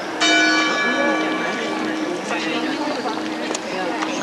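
A bell in a clock in Germany chimes loudly and rings on with long sustained tones, with a crowd murmuring and people talking throughout.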